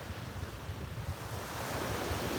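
Atlantic Ocean surf washes onto a beach at sunrise, a continuous rushing roar with wind buffeting the microphone, fairly loud and steady with no voices.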